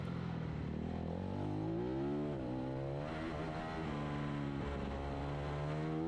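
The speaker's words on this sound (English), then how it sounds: "you hear the tyres squealing under Elias Sammartin" Racing motorbike engines rise and fall in pitch with a sustained high squeal of tyres, loud and continuous as the bikes sweep through a corner at a Superbike race in Bulgaria.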